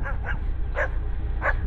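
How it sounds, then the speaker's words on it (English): A dog gives a few short yipping barks and whimpers, four separate bursts spaced unevenly over a steady low rumble of background noise. "And my dog doesn't recognize me."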